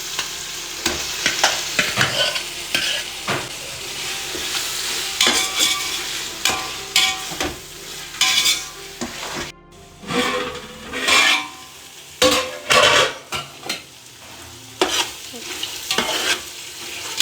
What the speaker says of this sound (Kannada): ಈಗ ಇದಕ್ಕೆ ಮ್ಯಾರಿನೇಟ್ ಮಾಡ್ಕೊಂಡಿರೋಂಥ ಚಿಕನ್ನ ಆ್ಯಡ್ ಮಾಡ್ಕೊಳ್ತಾ ಇದ್ದೀವಿ